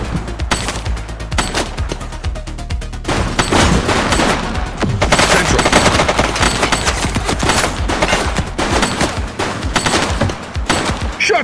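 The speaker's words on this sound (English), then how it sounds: "Central. Shots fired!" Gunfire in the police game The Precinct, a long, loud firefight of sharp individual shots and rapid bursts, crowded close together and unbroken for more than ten seconds, with no voices.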